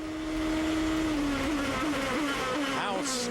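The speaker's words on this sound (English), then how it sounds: "Now listen to the downshift." A 2007 GP2 Series race car at Bahrain drops through gears: a loud sustained engine drone that falls in pitch with quick rev blips at each downshift.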